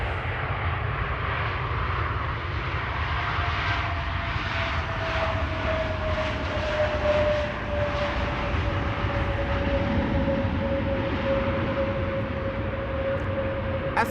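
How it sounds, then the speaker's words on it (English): An Aegean Airlines Airbus A321neo, arriving from Athens, lands at Amsterdam Schiphol on a Sunday morning, its engines a loud, steady roar held throughout with a faint rising whine threading through the wash. "Aegean, flight 3624, arriving from Athens, an A321neo, landing here after 2 hours and 52 minutes of flight."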